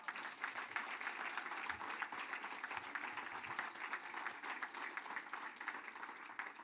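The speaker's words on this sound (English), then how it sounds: "Please give him another round of applause." A steady, even round of applause from the audience at a charity fall ball runs through the whole stretch, with no break and no one speaking.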